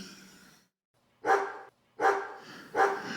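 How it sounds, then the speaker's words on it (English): A dog barks three times indoors, loud and evenly spaced, with short silences between the barks. "He had gotten out of his doggy bed and was in the hallway barking again."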